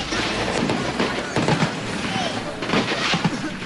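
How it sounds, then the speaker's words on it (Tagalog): Booming cannon blasts roll and echo through a steady wash of background noise during military fighting in Maguindanao, several dull thumps spread out over a few seconds. "Umalingaw-ngaw mga putok ng kanyon"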